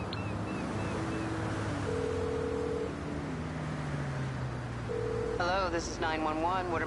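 Dial tones and a phone ringing come from a mobile phone calling emergency services in GTA Online, with steady flat beeps under game ambience, followed by a voice starting to talk near the end.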